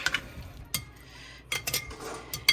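A spoon stirs a buttered garlic mixture with steak bites in a bowl, giving a few short scraping swishes and light clinks against the dish, close and fairly quiet, with no talking.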